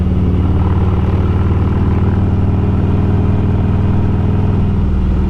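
Motorcycle engine droning steadily and loud up close while riding up the winding Mount Lemmon road, a continuous mid-pitched rumble with no talk over it.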